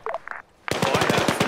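Rapid automatic gunfire from a military shooter game, a loud sustained burst of closely spaced shots following a brief quieter stretch with faint radio-like voices.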